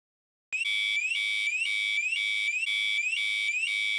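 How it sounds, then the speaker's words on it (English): A boat's anchor alarm sounds an electronic beeping pattern, steady and loud, with a rising chirp repeating about twice a second, as another boat, Polarix, is about to collide with it. "you can hear the anchor alarm going off there"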